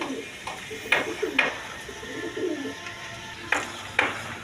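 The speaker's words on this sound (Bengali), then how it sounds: "আরেক পেয়ার ইন্ডিয়ান বোম্বাই কবুতর আছে অরিজিনাল ইন্ডিয়ান বোম্বাই কবুতর" Indian Bombay pigeons coo softly over a low background hum, with a few sharp pinging clicks and scattered faint calls across the few seconds, fairly quiet and without speech.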